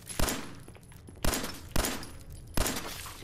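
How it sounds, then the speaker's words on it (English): Gunfire in Fallout 4, four sharp loud shots at irregular intervals, each with a burst of noise and a ringing tail, over a steady hum of game background. "I'm pretty sure I'm shooting you."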